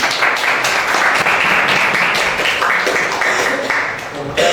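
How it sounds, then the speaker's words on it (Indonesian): Students applaud a group presentation in a tenth-grade school class, a steady, dense wash of clapping that continues at even loudness throughout, heard close. "tepuk tangan untuk kelompok 2 ya"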